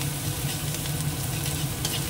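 A pan sizzles steadily as ingredients fry for a prawn malai curry, a constant close hiss and crackle with light stirring and no voices.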